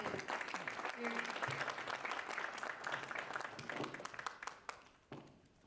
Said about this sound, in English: I would like to have a big round of applause for Dr. Amr Mohsen